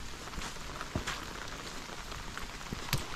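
Steady rain falls on an open field prepared for planting ginger, a soft continuous patter with a few louder drops and taps standing out now and then.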